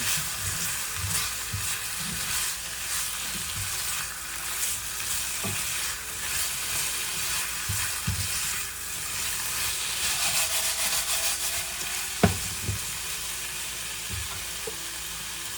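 Garlic sizzles in a hot pan for a few minutes, a steady close frying hiss with occasional stirring scrapes and clinks, heard alone without any talking.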